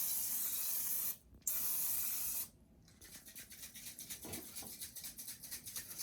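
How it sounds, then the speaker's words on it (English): Non-stick cooking spray hisses from an aerosol can over a pan in two bursts of about a second each, with a short gap between them, followed by quieter rhythmic shuffling sounds. "I'm going to use some non-stick cooking spray."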